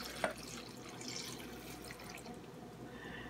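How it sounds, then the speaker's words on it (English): Meat broth poured from a container into a pot of eggplant cooking in red palm oil, a steady close liquid trickle and splash running the whole time with one sharp drip-like hit near the start. "I'm just gonna add the water from the meat."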